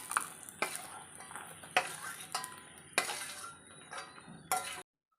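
Cashew nuts and raisins fry in a pan while being stirred, with a faint background sizzle broken by about six sharp scraping clinks of a spoon against the pan.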